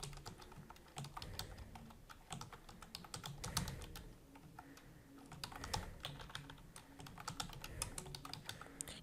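Quiet, steady typing on a computer keyboard while entering poll answers, an irregular run of light key clicks with brief pauses, close and unaccompanied.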